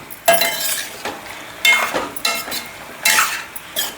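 Chicken rice with yogurt being stirred in a pan, with a utensil scraping through the food in three or four strong bursts amid a light sizzle and occasional soft clinks.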